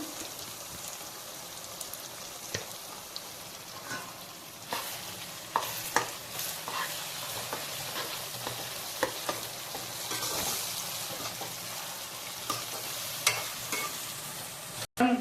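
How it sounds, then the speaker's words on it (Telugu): Ginger garlic paste fries in a pan ahead of a chicken curry, a continuous close sizzle broken by frequent clacks and scrapes of stirring throughout, with no voices. "అల్లం వెల్లుల్లి పేస్ట్ వేగిపోయింది."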